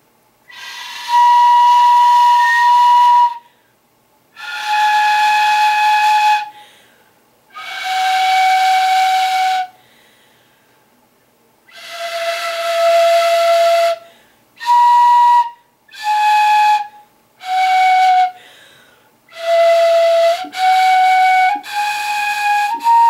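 Notes played on a Japanese fue flute: a string of loud, breathy, sustained tones with audible air hiss, first long held notes and then shorter ones in quick succession, slightly wavering in pitch.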